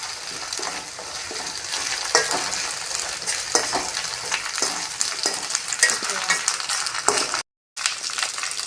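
Ginger garlic paste sautés with onions in a pan for a drumstick thokku, a close, continuous sizzle broken by frequent spatula scrapes and taps, cut off by a brief moment of silence before the frying resumes.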